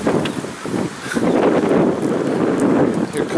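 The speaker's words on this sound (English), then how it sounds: "Here comes the wind again." Wind buffets a camcorder microphone outdoors in Mindanao, Philippines, a steady low rumbling roar that swells and gusts throughout, with a voice faintly under it.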